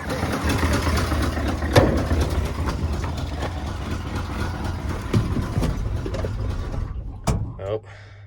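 Ford F-100 truck engine idling unevenly after years of sitting while blowing oil from the exhaust, a low steady rumble with mechanical clanks and brief bumps, fading out near the end, with people speaking over it.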